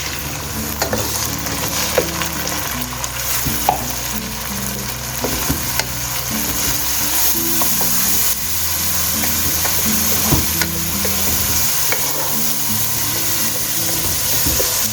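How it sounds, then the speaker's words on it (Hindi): Tomatoes go into onions frying in a pan for a white lobiya (white bean) curry, setting off a loud, steady sizzle with stirring scrapes and clatter running throughout, no voices. "देखिए, इस स्टेज पे हम इसमें डालेंगे टमाटर।"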